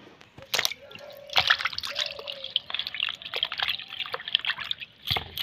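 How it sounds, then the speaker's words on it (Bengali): Water trickles, drips and splashes close by as a mango is washed by hand, an uneven patter of small splashes over about five seconds. "আমটা ভালো করে জল দিয়ে ধুয়ে নিই।"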